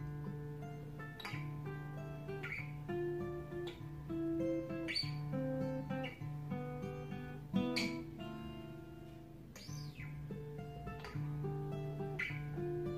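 Acoustic guitar fingerpicking the intro riff of a song, with plucked single notes and ringing chords played solo at moderate volume, close and clear.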